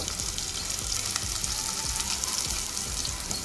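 Onions sautéing in oil for hotel-style sambar, a dense steady sizzle with faint stirring scrapes, close and continuous with no talk.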